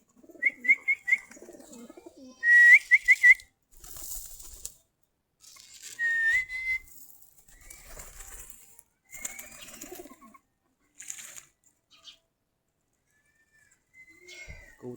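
Giribaz pigeons kept in a loft coo and call close by in short, repeated bursts separated by quiet gaps, with a few whistly notes mixed in.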